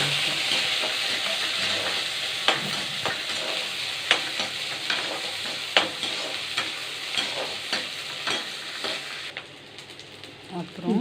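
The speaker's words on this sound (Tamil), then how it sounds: "இதை நல்லா வதக்கி எடுத்துக்கலாம்" Garlic and ginger frying in oil in a pan for mutton kuzhambu, a steady sizzle broken by sharp clinks and scrapes of a stirring spoon at close range.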